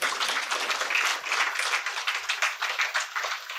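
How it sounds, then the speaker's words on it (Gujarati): Audience at a Gujarati book launch giving steady applause, a dense wash of many hands clapping throughout, moderately close with no break. "એકવાર ખૂબ તાળીઓ આદરણીય વસંતભાઈ માટે"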